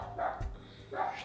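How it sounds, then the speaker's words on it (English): A dog indoors gives two short barks about a second apart, close and fairly loud, with a low thump between them. "Shut up, dog."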